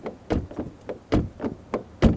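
A series of sharp, dull knocks or thuds at an irregular pace, about eight hits over two seconds, close and fairly loud, fitting a Ford Focus car door being slammed and handled with no talk over it.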